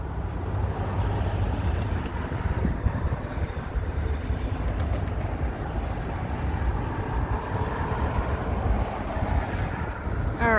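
Wind blows steadily outdoors at a high vantage point above traffic near Renton, Washington, a constant low rumble of wind across the microphone, loud and unbroken, with no voices.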